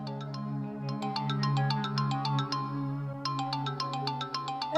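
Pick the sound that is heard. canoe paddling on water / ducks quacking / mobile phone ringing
mobile phone ringing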